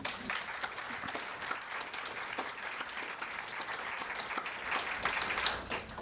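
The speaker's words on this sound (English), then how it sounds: "I think they deserve a certain round of applause for that." Steady audience applause at a literary prize shortlist announcement, a dense, even clatter of many hands held throughout and swelling slightly toward the end, with no voices over it.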